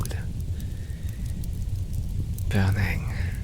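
Rain sound effect played as soothing background, a steady wash of falling rain throughout with a louder burst near the end.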